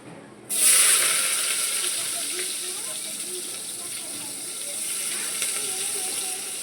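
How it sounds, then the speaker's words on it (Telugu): Sliced onions dropped into hot oil for a home-style tomato rice and mutton curry meal, bursting into a loud, steady sizzle that settles into a continuous crackling hiss with faint spits throughout. "కాస్త ఆయిల్ వేడిగా ఉంటాయి, తుల్లుతాయి, జాగ్రత్తగా వేసుకోండి ఉల్లిపాయలు అయితే"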